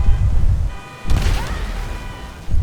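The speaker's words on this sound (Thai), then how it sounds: "รถระเบิดซะ" A car blows up in GTA V with a Hulk mod installed, giving one loud burst of crashing, explosive noise about a second in. It sits over a steady background rumble and fades over a couple of seconds.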